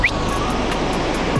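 Large surf breaking on a beach at very low tide with exposed rocks on Djerba, a steady broadband wash of waves rolling continuously and fairly loud, with no voices over it.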